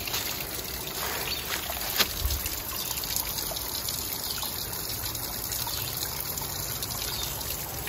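Water of the James River near Glasgow, Virginia, trickles and flows steadily in the open air, a constant even wash close by with no voices, broken briefly by a faint knock.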